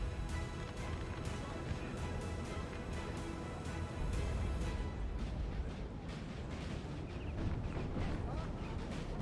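Artillery fire rumbles through a Napoleon: Total War battle, a dense, continuous roar of cannon booms and crackling volleys layered over distant battlefield noise, with a voice talking above the din.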